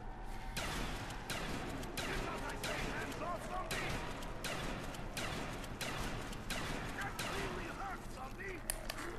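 Shotgun blasts in a zombies video game, a string of sharp broadband bangs fired every second or so over continuous game noise while players talk.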